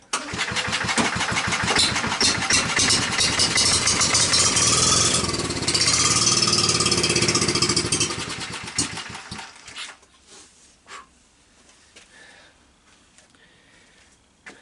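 A Kohler K91 small gas engine on a three-wheel gas-powered hauler runs loud and steady with a rapid chugging beat after choking, then cuts out and winds down to quiet after about eight seconds.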